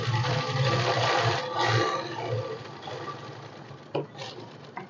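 Sewing machine running steadily while stitching elastic for a tulip salwar, a loud close whirring that slows and stops near the end, followed by a couple of small clicks.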